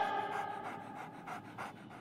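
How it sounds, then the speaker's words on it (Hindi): A dog pants heavily in a Hindi comedy sketch, with rapid rhythmic breaths pulsing in short bursts close to the listener. No clear bark and no talking are heard. "अबे अबे क्या हो गया, भौंक क्यों रहा है?"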